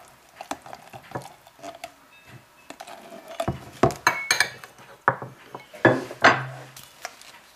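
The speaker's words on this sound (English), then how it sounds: "I'm going to just mix that up with a little bit of curry powder." Sandwich filling stirred with curry powder in a bowl, a run of irregular clinks and scrapes of a utensil against the bowl, growing louder and more forceful toward the end, close and alone.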